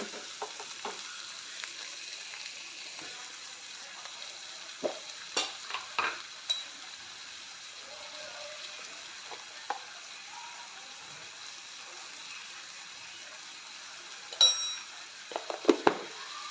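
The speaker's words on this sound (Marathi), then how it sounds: "मीठ घालून चांगलं सॉफ्ट होईपर्यंत भाजून घेऊया कांदा आणि टोमॅटो" Onion and tomato with salt fry softly in a pan, a faint steady sizzle broken by occasional light clinks and scrapes of a stirring utensil, louder clatter near the end.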